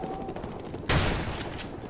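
A sudden burst of automatic gunfire erupts in Call of Duty: Modern Warfare Remastered, a loud, close, dense rattle that cuts in midway after a quieter stretch of game ambience and rings on to the end.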